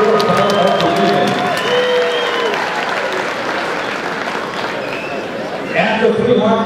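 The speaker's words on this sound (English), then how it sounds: "how about a round of applause for both Chris Rideout and Ruben Redman?" A crowd at a boxing match applauds steadily throughout, with an announcer's voice and some cheering mixed in over the clapping.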